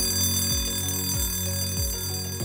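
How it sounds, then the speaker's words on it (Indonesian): An emergency alarm blares loud and steady, with repeating falling tones about every half second, close and continuous throughout, with no voices. "Jika Anda mendengar bunyi alarm, Anda diminta untuk menghentikan semua aktivitas"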